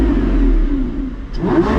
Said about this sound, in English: Let me rev it for you